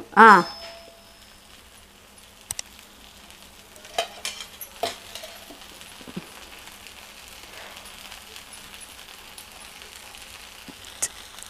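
Oil splashes onto a hot pan beneath a ragi and wheat flour dosa with a loud hiss, which settles into a quiet, steady sizzle. Scattered clicks and taps of a utensil follow.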